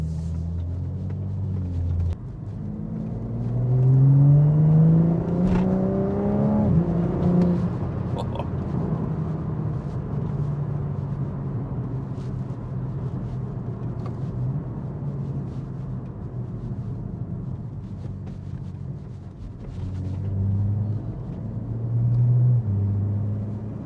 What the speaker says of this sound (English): you do get quite a lot of wastegate noise in here, and I assume that's to do with the induction kit